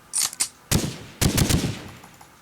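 A G3 rifle firing in Minecraft with the Flans Mod, short bursts of loud rapid gunshots: a couple of quick shots, then two longer bursts separated by brief gaps.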